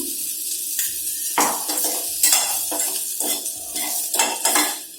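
Bitter gourd fry with gram powder mixed in is stirred in a pan, metal spoon scraping and clinking against the pan over a light sizzle, close and alone.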